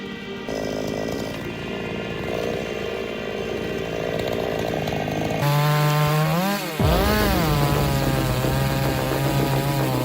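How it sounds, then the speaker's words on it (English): A chainsaw cuts into a giant tree in a tall forest, roaring loud and close: a steady high revving drone, then pitch swoops as the engine bogs and revs under load, continuing strongly throughout with no voices. "a man takes on a giant tree with nothing but his chainsaw"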